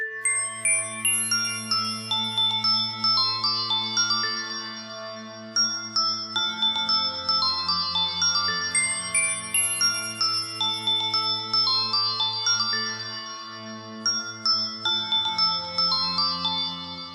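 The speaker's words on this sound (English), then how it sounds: "Very nice sounding bell." A bright ballerina-preset bell melody from FL Studio plays a steady, repeating tinkling pattern over sustained low tones, loud and clear with no talking.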